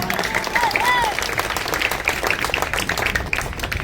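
Audience at a live mimicry comedy show bursts into sustained, dense clapping and applause, loud and close, continuing steadily for the whole stretch with a few faint whistles near the start.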